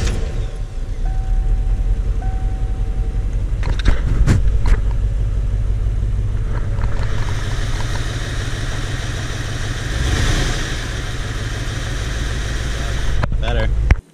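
A 1993 Corvette with an LT1 V8 starts up and settles into a running idle. Its steady low rumble is close and continuous, with brief clicks and knocks early on and a rougher swell partway through.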